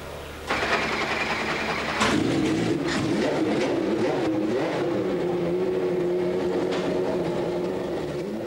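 McLaren Formula One car driving past, a high-pitched engine note that rises sharply and then holds a sustained whine, fairly loud and close, with faint mechanical clatter underneath.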